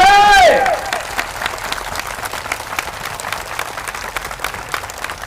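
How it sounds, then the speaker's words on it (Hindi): Steady applause from a village crowd, with many hands clapping continuously throughout, after a brief amplified voice at the very start. "सरपंच जी बर जोरदार ताली बजा दो"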